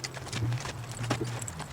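A ridden horse trotting in an arena during turn-around training, with quick, even clip-clop hoofbeats close by and steady throughout, no talk over them.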